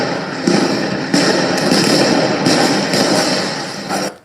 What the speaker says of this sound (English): A lot of flashbangs in retaliation.